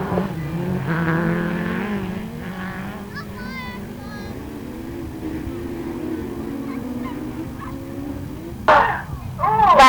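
Autograss race cars in the men's class 8 race at St Neots, a distant engine drone rising and falling under a commentator's talk, with a sharper burst near the end.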